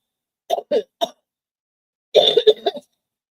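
A few short, sharp coughs close by, a pause, then a longer burst of coughing and throat clearing in a quiet room.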